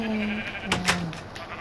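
Sheep bleating in Minecraft as the player attacks it: two short, wavering blocky bleats close together near the middle, over a steady game background hum with no talking.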